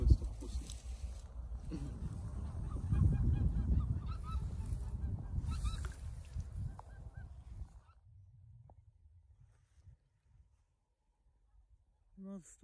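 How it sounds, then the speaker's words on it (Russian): Geese honk loudly in a dense, overlapping flock chorus of thousands for several seconds, then fade to quiet, with a brief honk near the end, on a fishing trip in Estonia. "У нас тут этих гусей, уток, я не знаю, тысячами."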